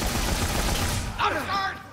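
Bursts of hand cannon fire in Dead Rising 3, loud and dense, followed by a chaotic rush of game sounds and shrill tones as the firing tails off.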